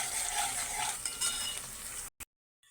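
Ginger garlic paste stirred into frying onions in a pan, a bright continuous sizzle with scraping stirs, cutting off abruptly into near silence at the end.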